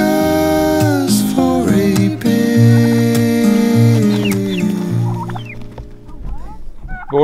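Turkeys gobble loudly and repeatedly near an emu yard on a farm, rippling bursts overlapping one another with a steady din of fowl calls throughout and no talk.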